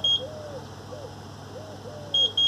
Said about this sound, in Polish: Alarm działa.